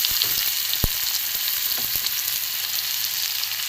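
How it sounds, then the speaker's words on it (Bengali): Chopped onion and garlic fry in hot oil in a wok, giving a steady, loud, close sizzle with a few sharp crackles and light clicks throughout. "একটু একটু ভেজে নেবো ভালো করে"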